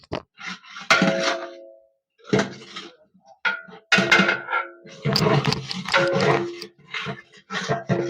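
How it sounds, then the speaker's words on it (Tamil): A large metal spoon scrapes and clanks in a big pot of chicken biryani, irregular loud scraping strokes and metallic knocks separated by short pauses, close up, with bits of voice between. "பாத்தியா எவ்வளவு ஸ்பீடா கிண்டறேன்"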